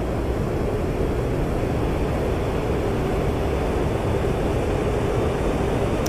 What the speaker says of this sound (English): And you can already hear that wind noise building up, so that's great.